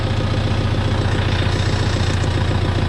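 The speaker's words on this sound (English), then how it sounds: "you're getting the full-blown engine of that beautiful four-cylinder" A Kubota M6040 tractor's four-cylinder engine, running without a muffler, idles loud and close in a steady, throbbing rumble with no talking.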